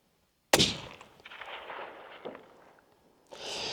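One suppressed shot from a lightweight 6.5 PRC hunting rifle on a bipod cracks sharply and close, then leaves a rumbling tail, a brief rustle and a later shuffling noise.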